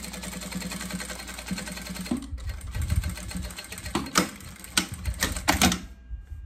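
A sewing machine runs stitching a seam in bag lining fabric, a steady mechanical rattle that becomes uneven and choppy toward the end before stopping.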